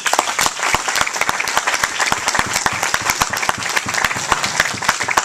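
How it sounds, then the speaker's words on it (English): An audience claps steadily throughout, a dense, lively round of applause heard up close with no voices over it. "let's have a big round of applause for Trish, Lem, and Larry"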